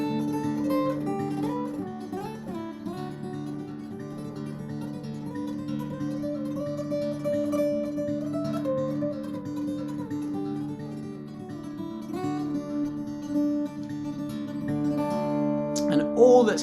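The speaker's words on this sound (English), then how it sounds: "We have this sort of almost Indian classical inspired tremolo thing, which sounds a bit like this." Guitar in DADGAD tuning playing a rapid Indian classical inspired tremolo melody over sustained drone strings, close and moderately loud, continuous for the whole stretch.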